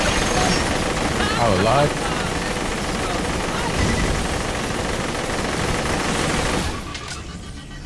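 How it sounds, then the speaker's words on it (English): Rapid gunfire crackles continuously in the Borderlands video game, dense automatic bursts filling most of the span before easing off near the end, with someone talking over it. "Hey, what are y'all shooting me for?"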